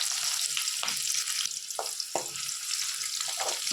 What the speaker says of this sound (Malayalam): ഉള്ളി നല്ല ഒന്ന് മൂക്കട്ടെ